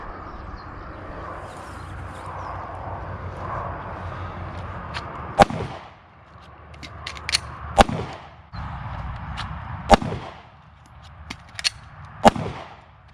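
Pistol fire during a concealed-carry draw-and-reload drill, with sharp shots arriving singly and in pairs after pauses and quieter handling and rustling in between, close and loud with no talking.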